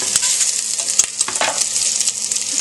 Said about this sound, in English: getting it cooked so that we can drain off the excess oil from this Italian sausage